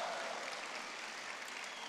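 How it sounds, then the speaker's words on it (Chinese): Audience applause at a Deyunshe crosstalk show with Guo Degang and Yu Qian: a short, even patter of many hands clapping at once, fairly faint and steady throughout. "秋观明月如同碧水，冬看瑞雪铺满了山岗，可以鼓掌"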